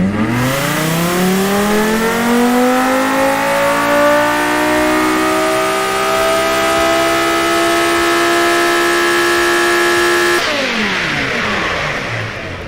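A custom-built engine in the Automation/BeamNG driving game revs up loudly and alone, its pitch climbing steadily for about ten seconds before cutting off and winding back down.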